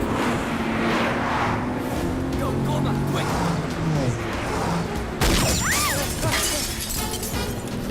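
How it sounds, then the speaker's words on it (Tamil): A car tyre bursting during a movie comedy chase, with a sharp crash and shattering glass cutting through loud engine and road noise, followed by squealing and rattling as the car carries on, with voices underneath. "டயர் வெடிச்சிருச்சு போல"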